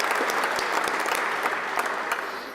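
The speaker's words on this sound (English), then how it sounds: "Give him a round of applause" Loud, dense applause from a large university crowd at a UConn basketball celebration honoring a former player, continuous and close with no talk.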